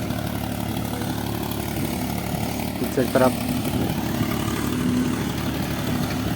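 A tractor engine runs steadily in a rice paddy during rice transplanting, a low continuous drone under someone speaking in Chhattisgarhi, with a brief clatter midway.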